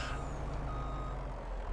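A truck reversing in the farming game Farming Simulator 22, with a low steady engine drone and a faint, regular backup beep sounding over it.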